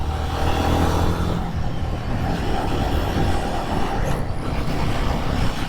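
A Royal Enfield Guerrilla 450, a liquid-cooled motorcycle, rides through city traffic with a steady, loud engine drone and road and wind roar throughout, close and continuous, no voices.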